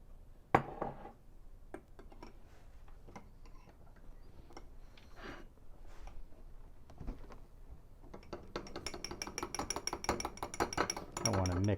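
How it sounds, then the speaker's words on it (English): Spoon stirring coffee and milk in a cup for a cappuccino, starting with scattered light clinks and taps and building to a fast run of rhythmic ceramic ticking that grows louder toward the end. "I want to mix up the coffee and the milk"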